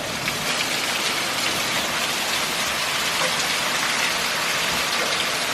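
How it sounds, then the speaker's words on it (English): Heavy rain from an early Hurricane Matthew feeder band pours down steadily in Florida, a dense, continuous hiss of drops hitting surfaces that holds at one loud level throughout, with no voices. "And the rain is just coming down like you'd be in a shower."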